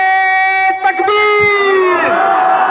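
A crowd at a village urs shrine gathering roars back a chanted slogan, a drawn-out mass shout with many sustained voices rising and falling together, loud and close.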